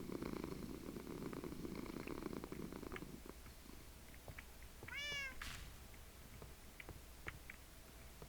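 In Minecraft, a cat purrs steadily up close, then gives a short rising meow partway through, with soft game ambience and faint clicks around it.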